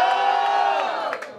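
An audience at a freestyle rap battle in Londrina roars with loud cheers, whoops and sustained shouting, a dense wall of crowd noise that fades slightly toward the end.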